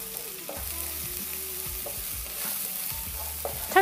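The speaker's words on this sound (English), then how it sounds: "Give a quick stir" Paleo Kung Pao chicken sizzles steadily in a pan while a utensil stirs it in regular strokes, each scrape landing about every second over the constant frying hiss, close and moderate.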